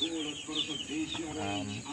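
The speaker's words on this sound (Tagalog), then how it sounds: "gaalaga rin kami ng mga native na manok" Several native chickens on a small farm cluck and chatter close by in a short, busy burst of overlapping calls.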